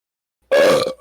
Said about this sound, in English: Spicy burps.